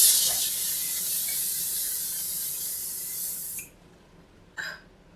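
Sooo Pro Seal It setting mist sprayed onto a face gives a long, steady close hiss lasting several seconds, then one short second spritz after a pause.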